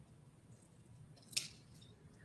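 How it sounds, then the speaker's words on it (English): A single quick snip of fabric scissors slicing through a sheet of vinyl, soft and close, with faint room hiss around it. "you'll just take your fabric scissors and you're going to cut off the excess vinyl"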